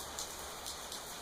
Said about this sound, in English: You guys hear that? It's just rain.